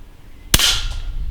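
A single sharp PP700 Artemis PCP air rifle shot at about 19 joules, loud and close, firing a sudden crack and then a brief fading tail, with no other sound around it.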